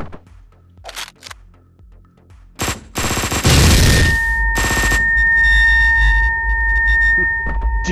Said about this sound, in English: That really does kind of hurt my ears when I do the explosions.